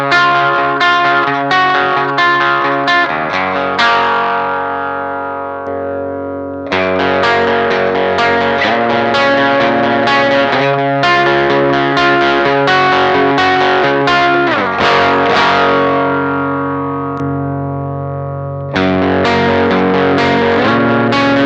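A Telecaster played through an Electrojunk BOOst treble boost pedal, switched between voice settings, gives bright, driven chords and riffs in repeated phrases with short gaps, loud and close with no talking.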